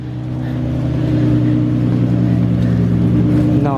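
Exhaust from a car with a holed muffler gives a steady, loud, throbbing drone with a raspy edge, held at a constant idle close by, with no talk.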